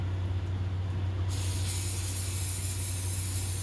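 A loud, close hiss of spray on a wig starts suddenly partway through and continues steadily over a low background hum.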